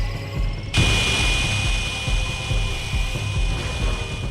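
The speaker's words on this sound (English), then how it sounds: "The Cerebral Bore fires a drill that zeroes in on an enemy's head and proceeds to enter the brain" Whirring, grinding drone of the Cerebral Bore's drill boring into an enemy's head in the Turok video game, starting abruptly and holding steady and loud with a rough, buzzing texture.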